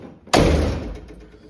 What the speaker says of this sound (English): then close the door, see what's going down